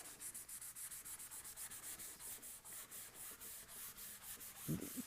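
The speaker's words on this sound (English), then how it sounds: "just at the beginning to kind of do a little just blending everything together" A pencil drawing of a wine bottle blended on paper, heard as a soft, rhythmic rubbing that repeats in quick, even strokes, close and faint.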